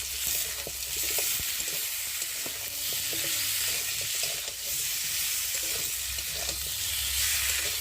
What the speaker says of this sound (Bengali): দিয়ে দেবো একটা টমেটো, জিরে বাটা, আদা বাটা দিয়ে মশলাটা ভালো করে কষিয়ে নেব।